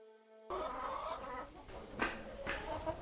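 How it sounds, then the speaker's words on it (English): Chickens cluck and call inside a winter farm barn with a composting bed pack, a steady flock murmur close by with a couple of louder squawks rising above it, no talking. "This is the storage kingdom and chicken kingdom, Joe's kingdom."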